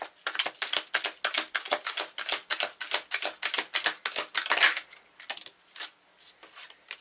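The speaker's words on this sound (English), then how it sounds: "I'm going to take one tarot card for each" Tarot cards drawn and handled during a reading, a quick run of crisp snapping and flicking shuffles up close, then slower scattered card slaps and slides.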